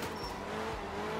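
A rally car in the Art of Rally racing game slides under the handbrake, its tires scrubbing and skidding over a steady engine drone for a brief, continuous stretch.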